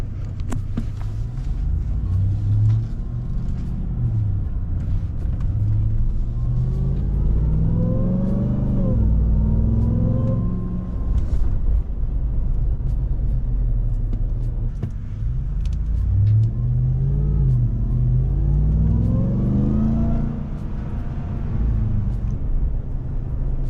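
Ram TRX truck with a 6.2 V8 revving, loud and close, with two long rising-and-falling pulls of deep throaty engine roar over a continuous rumbling idle.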